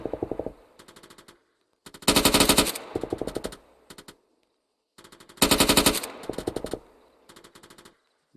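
Machine guns in the game Arma 3 fire in rapid bursts, loud clipped rattling strings separated by short silences, with a heavier close burst recurring twice.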